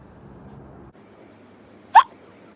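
A single sharp hiccup pops out once, brief and fairly close, over a faint low hum of background noise, with no talking.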